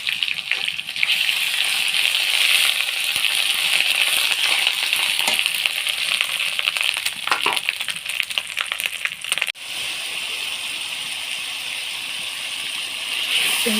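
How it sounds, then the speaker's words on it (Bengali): Onion, ginger-garlic paste, cumin, turmeric, chili powder and green chilies fry in a pan with a loud, steady hiss and crackle, broken by a few scraping stirs. "আমার আদা রসুন জিরা হলুদের গুঁড়ো মরিচের গুঁড়া কাঁচামরিচ সব মশলা দিয়ে মশলাটা সুন্দর করে কষিয়ে নিতেছি।"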